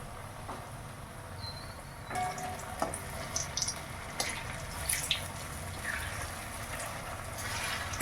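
Sweet potato pithe frying in hot oil in a wok, a faint, low sizzle with a few soft splashes and crackles as pieces go in, no talking.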